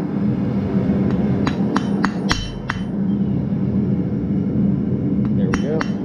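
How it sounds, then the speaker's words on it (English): A hammer rings on hot steel while forging a hotdog fork, with a handful of sharp metallic clinks in two short clusters over a constant roaring background, likely the forge. "And it's a little awkward to hammer on"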